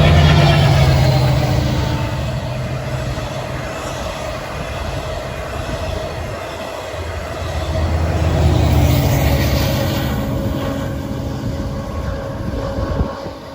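Long Island Rail Road eastbound train passing Hollis, a loud continuous rumble of wheels on rails with low droning swells as the cars roll by close to the listener, steady throughout.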